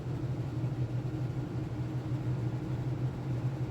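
A warmed-up Honda 450 motorcycle engine idles at around 1250 rpm, a steady low throbbing hum held evenly and close by with no other sounds.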